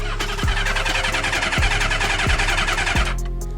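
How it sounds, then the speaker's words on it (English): An original Honda CB550 motorcycle engine cranks over on its electric starter, a steady mechanical churning with rhythmic compression pulses, loud and close, no voices. "Turn it over with the starter. You guys can hear the bike right now."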